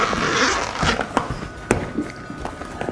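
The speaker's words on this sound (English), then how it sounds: "You can move the zipper all the way around." A zipper is dragged around the edge of a locked travel suitcase, giving quiet scratchy rasps broken by small clicks and taps, close by and with no talking.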